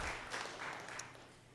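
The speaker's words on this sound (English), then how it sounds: "You can clap for that." An audience applauds at a talk, a short burst of scattered clapping that fades over about a second and a half.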